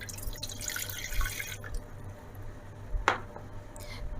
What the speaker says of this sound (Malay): pertama sekali masukkan air